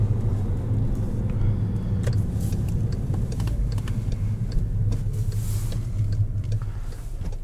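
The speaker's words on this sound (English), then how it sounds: "Tons of power from this turbocharged 4-cylinder." Heard from inside the cabin of a moving 2017 Volkswagen Jetta GLI, its turbocharged four-cylinder engine makes a steady, loud low drone with road rumble throughout.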